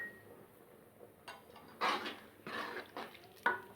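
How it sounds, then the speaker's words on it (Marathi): Sambhar being stirred and mixed in a cooking pot, with a few soft scraping clinks of a spoon against the metal in separate bursts, quiet and close. "हे व्यवस्थित मिक्स करून बारीक गॅस करून असं शिजत ठेवूया।"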